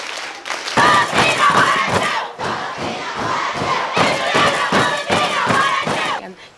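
Campers at Camp Wa Klo for Girls shouting the camp name in a rhythmic group chant, loud, close crowd voices with repeated emphatic bursts and thumping beats.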